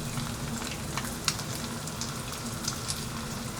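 Eggs frying in very hot oil and butter make a continuous bright sizzle with scattered crackles and small pops, heard close up and moderately loud, without any speech.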